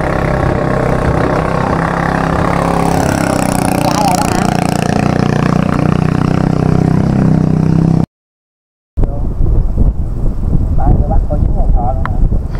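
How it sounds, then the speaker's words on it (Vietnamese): Strong wind roars across a river as a steady, loud rushing noise that briefly drops out, while a person speaks over it. "Gió bắt quá sợ luôn."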